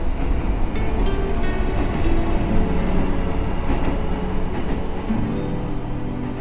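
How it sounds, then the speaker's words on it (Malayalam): Train at Kozhikode railway station: a dense low rumble of rolling rail cars with a broad steady roar, loud and continuous throughout, no speech. "ഞങ്ങൾ കോഴിക്കോട് റെയിൽവേ സ്റ്റേഷനിലാണ് ഉള്ളത്."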